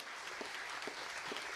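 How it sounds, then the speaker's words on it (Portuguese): A debate audience claps in a continuous, fairly faint wash of applause from a crowd, with no speech over it. "eu queria pedir uma salva de palmas para eles"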